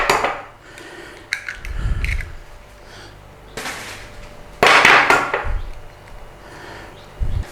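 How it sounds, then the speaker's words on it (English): Two eggs cracked in a home kitchen while making Thai-style tuna cakes, giving a few brief sharp knocks and shell snaps with some clatter of bowl and utensils amid quiet room noise. "Crack 2 eggs."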